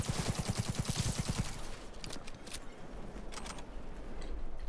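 Rapid bursts of gunfire from Cyberpunk 2077 combat, a tight string of loud shots in the first second and a half, then scattered fainter shots and clatter over a noisy backdrop.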